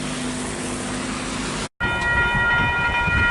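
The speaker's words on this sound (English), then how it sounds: "There's another train coming." A train rolls through the level crossing at Plimmerton, a steady rumble of rail wagons with a brief cut midway, then continued passing noise alongside the crossing's steady electronic warning tones, loud and close.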